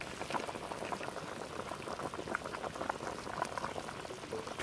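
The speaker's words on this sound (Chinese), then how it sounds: "把牛骨头先炖出来。" Beef bones stew at a rolling boil in a covered pot with scallion, ginger, garlic, dried chilies, Sichuan pepper, star anise, cinnamon, bay leaves and soy sauce, giving a steady close bubbling burble that runs unbroken throughout with no voices.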